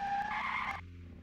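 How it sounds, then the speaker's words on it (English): A car in the eXpanSIM driving game drifts around a roundabout, producing a short, loud tire screech that cuts off abruptly, leaving a low engine hum, with no voices. "I will take this roundabout with drift."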